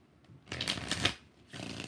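Tarot cards shuffled by hand: two brisk riffling bursts separated by a short pause, close and crisp, with no voices.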